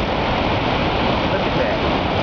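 Steady, loud roar of rushing water at Niagara Falls, a constant broadband wash with no breaks, heard nearby.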